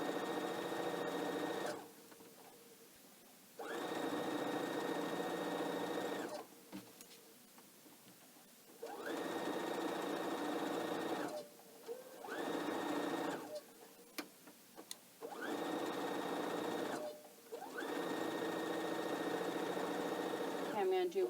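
A sewing machine stitches a pillowcase in repeated runs of steady whirring, each lasting a few seconds and separated by short pauses, close and clear with no talking over it.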